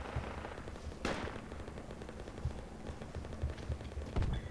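Ammunition cooking off in the military shooter Project Reality, a steady crackle of rapid pops and bursts with a sharper crack near the start and another toward the end, moderately close and without talk.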